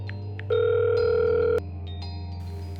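A phone call being placed: soft electronic beeps, then a loud steady ringback tone lasting about a second, followed by quieter tones and a low hum.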